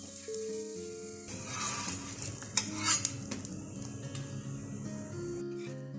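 Mutabbaq, a Saudi stuffed flatbread, frying in a pan with a little oil, a close steady sizzle with clinks and scrapes of a utensil over a low background tone, no talk.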